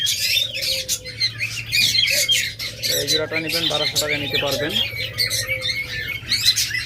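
Red-and-silver lovebirds in a breeding setup keep up constant shrill squawks and chirps, loud and close, while someone talks over them.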